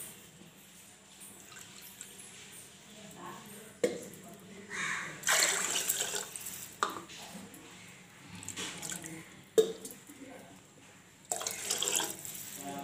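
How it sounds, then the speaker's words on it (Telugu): Water splashing and pouring from a tap in a kitchen sink while rice is washed twice, with intermittent bursts of running water and quieter gaps of rinsing sounds, fairly close. "కొంచెం వాటర్ పోసుకొని శుభ్రంగా రెండుసార్లు కడుక్కోవాలి"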